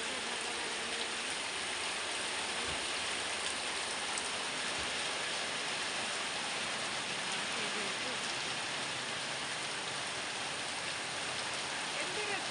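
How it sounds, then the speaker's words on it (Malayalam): Heavy rain falls outside a house in a dense, even roar of drops striking surfaces that stays steady and close throughout, with faint voices buried under it. "ഇതാ കണ്ടോ മഴ, അടിപൊളി മഴ."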